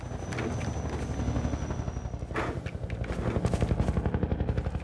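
Helicopter from the video game Half-Life 2, heard in the canals, with a loud, steady rotor chop pulsing throughout and occasional clattering bursts layered over the thrum.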